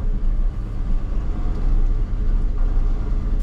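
A 1978 Ford F150 4x4 pickup backs up, its engine giving a steady loud low rumble with some road noise, close to the microphone and with no talk over it.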